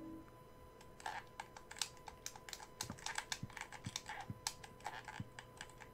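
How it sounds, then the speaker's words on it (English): Keys of a typewriter in Silent Hill 4 clack in an irregular run of quiet, crisp strikes, some in quick clusters, over a faint steady background hum. "And there's a typewriter here."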